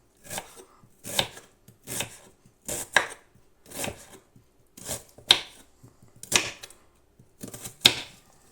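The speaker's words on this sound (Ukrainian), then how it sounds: "Так десь нарізаємо." Vegetables being sliced with a knife into half-rings on a cutting board for a salad, giving a steady run of crisp chopping strokes in short bursts, close and clear with no talk.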